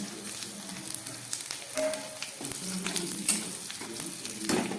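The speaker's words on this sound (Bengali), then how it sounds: "একটা তেজপাতা দিলাম আর দিয়ে দিচ্ছে একটু গোটা জিরে ফোড়ন" A bay leaf, whole cumin and dried and green chillies temper in hot oil, a crackling sizzle with sharp pops and a few utensil clinks, close and without talk.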